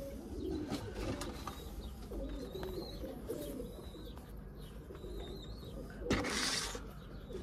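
A karaboş bird calls outdoors in soft, repeated cooing notes amid other faint chirps and rustling, fairly quiet and at some distance, with no talk.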